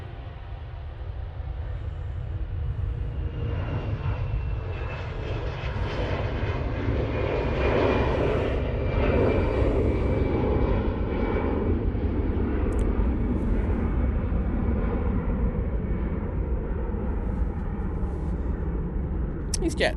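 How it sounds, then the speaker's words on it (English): An Airbus A320-200 jet takes off from Manchester Airport, its engine roar building and holding steady at middle distance while people talk over it. "These jets going off to Enfida there using an A320-200."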